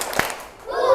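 Children clap their hands together once in a classroom, a single sharp clap followed by a voice.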